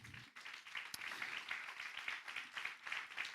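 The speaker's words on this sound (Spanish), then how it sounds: "Dan un aplauso al Señor" A church congregation claps and applauds in praise during a Spanish-language sermon, quiet and fairly distant, with a brief burst of rhythmic clapping lasting a few seconds.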